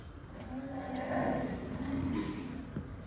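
A young, playful farm bull raised for Qurbani sale gives a long, steady moo, loud and close, holding for about three seconds with no talk over it.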